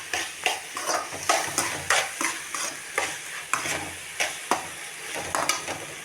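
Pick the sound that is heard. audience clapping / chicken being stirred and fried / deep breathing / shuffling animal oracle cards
chicken being stirred and fried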